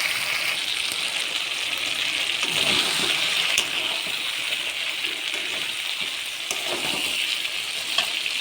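Chicken sizzles steadily in hot oil with red chili powder, a continuous bright frying hiss with occasional stirring scrapes and clatters, close and fairly loud, with no voices.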